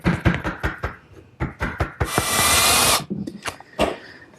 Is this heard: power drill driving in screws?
yes